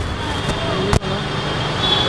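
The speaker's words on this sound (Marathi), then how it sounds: "ट्रॅफिक आहे." Road traffic on a busy Mumbai street rumbles nearby as a brief, steady wash of engine noise, with one sharp knock partway through.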